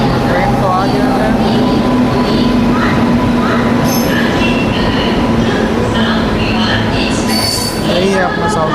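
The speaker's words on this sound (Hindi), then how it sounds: "ट्रेन तो आ गया है।" A train pulling into a station in India, loud and close, with rumbling wheels, squealing brakes and metallic screeches over constant crowd noise and voices throughout.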